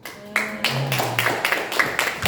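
Applause from an audience of teachers at a school population-awareness programme event in Bontang, a light scattering of claps with a few sharper slaps, under a speaking voice.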